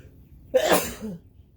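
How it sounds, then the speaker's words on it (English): A single sharp sneeze bursts out close by, followed by a short breathy tail, with quiet before and after. "I'm about to sneeze."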